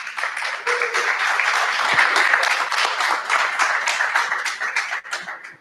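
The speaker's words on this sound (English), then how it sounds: "So let's give them a round of applause" Steady audience applause honoring Mainstream Technologies, a dense wash of many hands clapping at an even level for about five seconds before it tapers off; a faint voice may sit beneath it.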